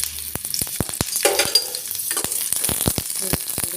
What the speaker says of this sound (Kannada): ಎಣ್ಣೆ ಕಾದ ನಂತರ ಈ ಮೆಣಸಿನ್ಕಾಯನ್ನು ಎಣ್ಣೆಗೆ ಚೆನ್ನಾಗಿ ಹುರಿದುಕೊಳ್ಳಿ